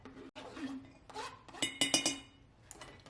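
Fresh cut garlic pieces drop into two glass half-gallon jars in a kitchen, making a few faint, close clinks and taps against the glass.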